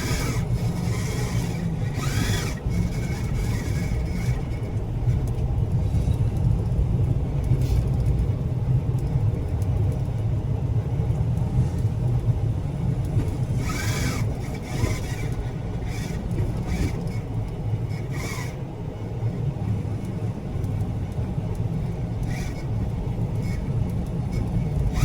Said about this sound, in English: So you can see the vehicle just found its way through the 3 bikes and just kept on moving.